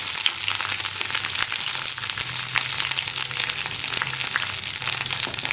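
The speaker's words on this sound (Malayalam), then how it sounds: "ഇതിലേക്ക് ഒരു ടേബിൾ സ്പൂൺ മല്ലിപ്പൊടി ചേർക്കുക." A tablespoon of coriander powder sizzling in hot oil over a lowered flame while making drumstick sambar, a steady close crackling fry with faint stirring and no talk.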